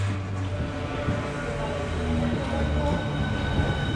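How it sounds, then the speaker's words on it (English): A train bound for London rumbles steadily throughout, a dense, continuous rolling noise with faint background murmur and no clear pauses. "About to jump on the train now"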